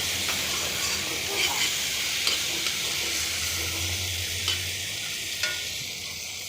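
Ridge gourd frying in a pan, a soft steady sizzle with occasional light scrapes and clicks of stirring, fairly quiet and close, no talking.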